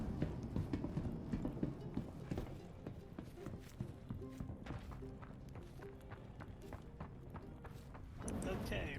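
Horses in a video game clip-clop with steady hoof beats moving throughout, fairly quiet, with a few thuds and someone talking over them.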